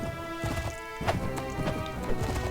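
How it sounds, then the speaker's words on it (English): Horse hooves trot in the Mount & Blade: Warband video game, giving a steady, quick clip-clop over a continuous droning game soundscape. "Come on, my trusty steed."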